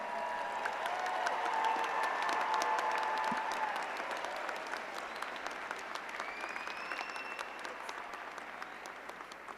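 Warm sustained applause from a commencement crowd for Dr. Schell at a psychology graduation, dense clapping with faint cheers and whistles, gradually thinning toward the end.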